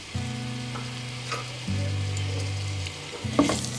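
Six medium onions softening in oil for masala bhindi (okra), giving a steady close sizzle with stirring beneath a low droning hum that drops out and returns in long stretches; no one speaks.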